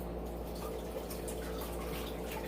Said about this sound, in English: Hang on, I gotta rinse my hands.